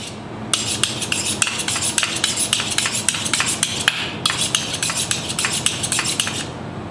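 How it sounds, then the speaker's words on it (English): Kitchen knives sharpened before cooking braised pork belly: a steady run of quick, bright metallic scraping strokes, close and fairly loud, with a brief pause midway before the rhythmic strokes resume. "most important thing to do before we do anything is sharpen our knives"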